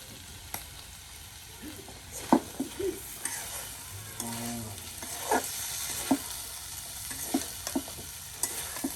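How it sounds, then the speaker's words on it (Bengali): Chicken pieces fry crisp in a pan on a clay stove, a soft constant sizzle with repeated clacks and scrapes of stirring. "মচমচে একদম ভাজা ভাজা করে নেওয়া হচ্ছে মাংসগুলো"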